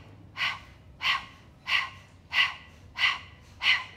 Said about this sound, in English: imagine you're a dog that's panting